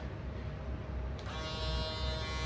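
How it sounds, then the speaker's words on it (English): A Babyliss UV single foil electric shaver running, a steady high buzzing hum that grows fuller and brighter partway through as it is switched or pressed, close and alone. "I love this Babeless UV single foil shaver."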